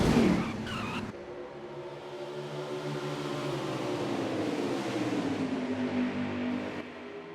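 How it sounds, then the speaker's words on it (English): A race car at Auto Club speedway in a Fast Family National Series race spins into the wall, a sharp tire screech up front giving way to a sustained engine drone and tonal scrub that sweeps and fades, fairly loud with no talk. "looked like we had a one car spin into the wall there"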